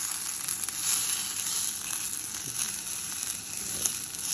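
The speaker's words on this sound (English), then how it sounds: "we've got all the egg in the pan and it's cooking" Beaten eggs for a breakfast omelette cooking in a hot pan, a steady close hiss and sizzle with faint crackles running without pause, no speech.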